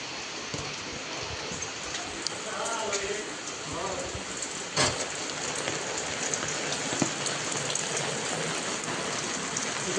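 The season's first rain falls steadily in a Konkan village, a dense close hiss of drops on surfaces with scattered louder splats, while people talk faintly in the background.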